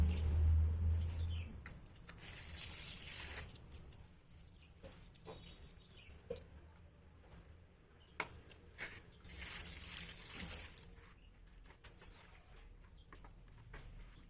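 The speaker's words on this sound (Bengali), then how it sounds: "এগুলো শাকটা ভালো করে ধুতে হবে, বালি থাকে তো অনেক" Palong spinach greens being rinsed by hand in water to remove sand, with soft splashing and dripping sounds at close range amid faint outdoor birdsong, quiet and intermittent throughout.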